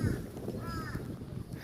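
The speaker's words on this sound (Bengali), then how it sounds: "আসার সঙ্গে সঙ্গে আমাদেরকে কাক বরণ করে নিচ্ছে।" Crows cawing at a seaside fishing village in rural Malaysia, a few harsh calls near the start and middle over steady wind and surf noise, with faint talk in the background.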